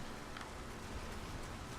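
Soft, steady rain hiss in the video game Nioh, a faint continuous patter with no distinct drops and no talking over it.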